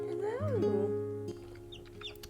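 A mother hen with newly hatched chicks clucking close by, a rising, wavering call followed by softer clucks and faint chick peeps.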